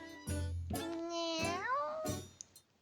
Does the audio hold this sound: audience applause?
no